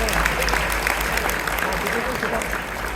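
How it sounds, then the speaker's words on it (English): Applause from an audience at a physicians' association spring gala dinner, continuous clapping with crowd murmur under it and a low rumble of the room, steady and moderately loud, with some voices in the mix. "We should clap for that."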